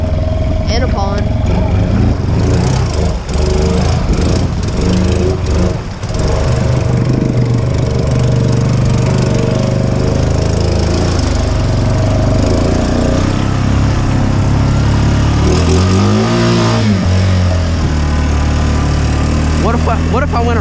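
A Honda ATV in two-wheel drive, driven handlebar-deep into a pond: a loud, close engine drone that rises and surges as it revs, with people talking over it.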